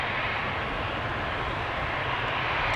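An Embraer 190 jet on approach at Amsterdam Schiphol Airport gives a steady, loud engine roar that fills the air without a break, with no voices.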